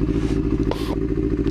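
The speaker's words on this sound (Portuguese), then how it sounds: "E eu aqui dando um rolezinho de moto, sossegado, na boa." A motorcycle cruising along on a casual ride, its engine running loud and close with a steady low rumble, a brief clattering scrape partway through, and wind noise over the top.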